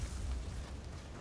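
Grenade explosion in the PUBG battle royale game, a single deep, heavy boom with a rumbling low-end tail lasting about a second, loud and close with no talk over it.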